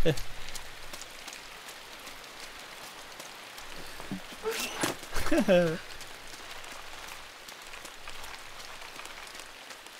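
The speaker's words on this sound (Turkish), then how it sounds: "Yağmur da yağıyor ya." Steady rain falls in the video game INSIDE, a soft continuous hiss of drops on surfaces running throughout, with a brief louder burst midway and a short laugh over it.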